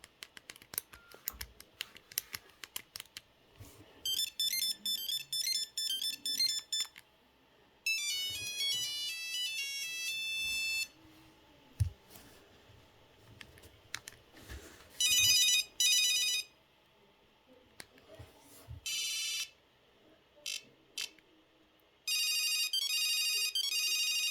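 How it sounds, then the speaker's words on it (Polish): Several short electronic ringtones from a Nokia 6310 phone play one after another, each a different melody, with clicks and taps in the quiet gaps between them. "Dobra, tutaj mam dźwięk dzwonka."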